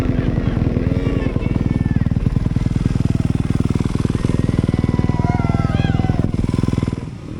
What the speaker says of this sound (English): That whiskey throttle right there at the end was nice,